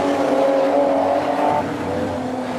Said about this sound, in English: He's hounding that EH Holland as hard as he can around the 460-metre clay oval here at Bundaberg.